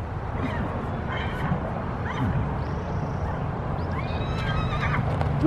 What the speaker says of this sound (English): There's so many horse noises happening today.